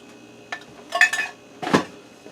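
Canned French onion soup is dumped into an Instant Pot, giving a few quiet metallic clinks and knocks of can against pot in two brief bursts, close and fairly faint.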